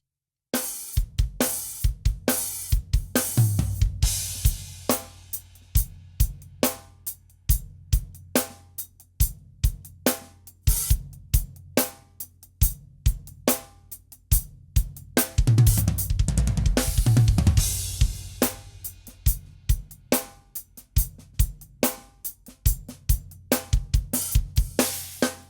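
A drum kit plays a steady groove with a choppy, syncopated pattern of snare and cymbal hits, close and clear, with no voices.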